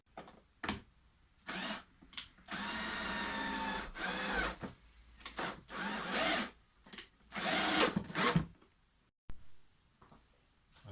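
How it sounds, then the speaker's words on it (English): A drill whirs in a series of short bursts through the side grain of wood, starting and stopping repeatedly with quiet gaps between, fairly close and moderately loud. "I will re-drill with a slightly larger bit through the side grain"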